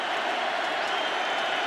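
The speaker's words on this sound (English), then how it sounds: "Crowd in full throat." A stadium crowd roaring and cheering during the fourth quarter of a Jets at Colts wildcard football game in Indianapolis, a dense, continuous wall of noise that fills the whole moment.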